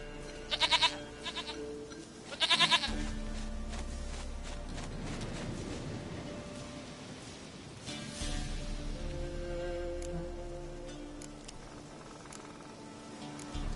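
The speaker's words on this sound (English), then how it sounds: "Goat of mine, dearest, sweetest goat." A goat in the video game The Witcher 3: Wild Hunt gives two short, close bleats near the start. After them, quieter game ambience with insects and some footsteps carries on.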